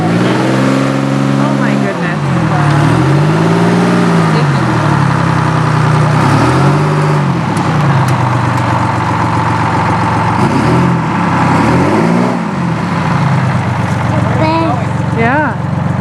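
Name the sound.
bus engine as the bus is pulled out with a tow strap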